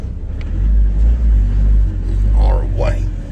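A vehicle engine rumbles steadily at close range, its low drone rising in two short revving surges as the vehicle pulls away after the clutch is tested; a voice speaks briefly over it.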